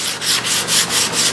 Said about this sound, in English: I'm just gonna sand right up to it